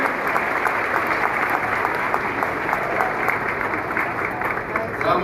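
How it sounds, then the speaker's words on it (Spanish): A church audience applauds after a pastor's talk, a full, even roar of many hands clapping that carries on steadily from start to end, with no voices standing out. "Vamos dar um aplauso ao Senhor"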